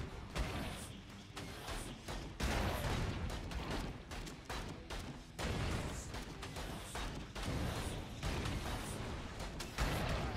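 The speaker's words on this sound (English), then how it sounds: "Oh, homing missile." Homing missile in a video game, a dense, sustained barrage of thudding, explosive, mechanical impacts that keeps going with brief dips, loud and close throughout with no voices.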